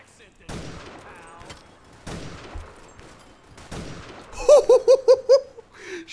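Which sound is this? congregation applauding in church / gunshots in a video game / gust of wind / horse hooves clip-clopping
gunshots in a video game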